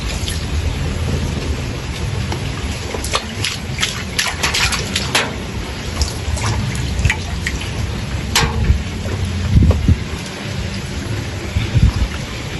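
Heavy rain pouring down during flooding in Jaffna, a dense continuous hiss with sharp drips and splatters hitting nearby surfaces and occasional low rumbles.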